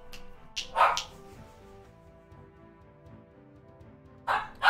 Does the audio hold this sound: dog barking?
yes